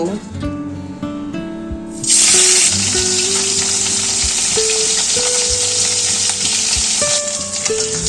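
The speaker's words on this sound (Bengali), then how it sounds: "নুন হলুদ দিয়ে মেখে রাখা পার্শে মাছগুলো দিয়ে দিচ্ছি ভাজার জন্য" Parshe fish coated in salt and turmeric drops into hot mustard oil with a sudden loud sizzle that keeps hissing steadily, while faint background music plays underneath.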